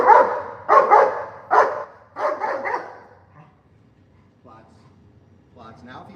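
A frustrated dog barks repeatedly during a live training session, several loud close barks in quick bursts that fade into quieter whimpers and yips, then a final short bark.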